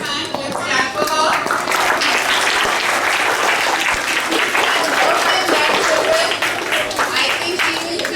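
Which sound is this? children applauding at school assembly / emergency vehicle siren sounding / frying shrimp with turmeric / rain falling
children applauding at school assembly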